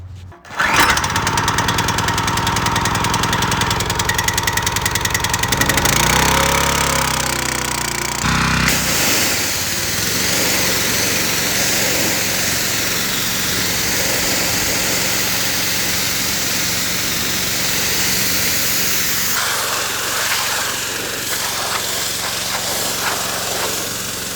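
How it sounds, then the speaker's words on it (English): Pressure washer running while cleaning out a backyard waterfall, a loud continuous motor drone with hissing spray that stays steady, changes pitch near the start and shifts slightly later, with no talk. "So let's get the pressure washer out."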